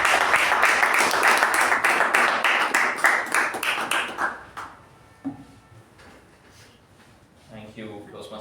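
Dense applause from a Toastmasters club audience greets the club president, loud at first and thinning out after about four seconds into scattered claps, followed by a few faint voices.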